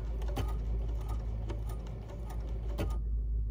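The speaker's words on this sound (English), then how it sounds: "let the machine complete the whole button sew-on cycle." A BERNINA sewing machine runs its button sew-on cycle, a quick, even mechanical clatter with sharp repeating ticks, close and steady for about three seconds before it stops.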